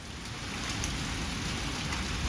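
A torrential summer downpour roars steadily, dense rain hammering surfaces in a constant loud hiss with no pauses or voices.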